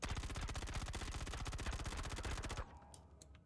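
Rapid automatic gunfire in the space game Star Citizen as a weapon shoots open a derelict ship, a dense, evenly spaced burst of loud close shots lasting over two seconds before stopping abruptly.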